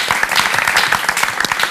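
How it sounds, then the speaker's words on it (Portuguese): Studio audience applauds a guest speaker on a Portuguese-language talk show, dense steady clapping filling the whole stretch at close range, with no voices over it. "Dzanko Ndétemi, uma salva de palmas,"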